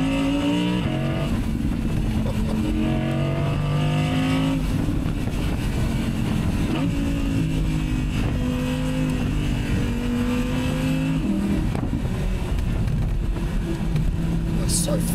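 2023 Audi R8 V10 Spyder engine on a race track, loud and continuous with rising and falling revs through gear changes, close up and steady for the whole stretch.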